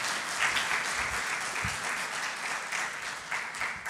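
A church congregation applauds together in a hall, a dense sustained clapping that stays steady throughout with no voices over it.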